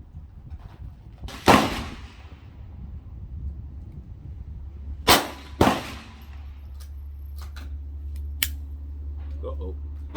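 A GSG 1911 .22 pistol fired at an outdoor range: one sharp shot, then a quick pair a few seconds later, each ringing briefly, with faint clicks and handling noise between them and a low steady hum underneath.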